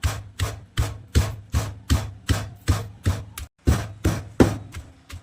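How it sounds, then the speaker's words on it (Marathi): Green chillies and peanuts pounded with salt in a mortar, about a dozen loud, evenly spaced thuds with a brief pause midway, close and alone without talk. "मिरच्या शेंगदाणे म्हणजे आपण उकळात कुटून घेऊया"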